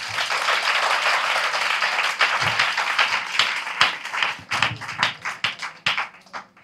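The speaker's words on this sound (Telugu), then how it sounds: "ఫుల్గా గట్టి క్లాప్స్ కొట్టాలి మరి రావాలంటే" An audience at a children's education-wing gathering breaks into sustained applause, a dense wash of clapping that loosens into sharper, more separate hand claps toward the end.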